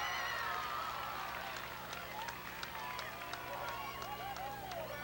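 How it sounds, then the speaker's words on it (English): A distant crowd at a rowing race cheers and claps after a close finish, a faint roar heard under an announcer's ongoing commentary. "You can hear from the crowd reaction."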